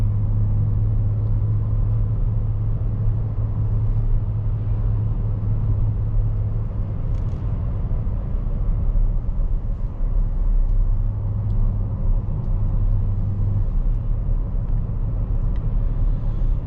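A 2023 Chevy Traverse LT with a 9-speed automatic cruises along, heard from inside as a steady low engine and road rumble with faint tyre noise and no talk.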